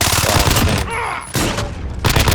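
Rapid bursts of Vector submachine gun fire in Call of Duty Modern Warfare: loud, sharp automatic shots in two quick strings separated by a short lull with a faint high tone, then resuming.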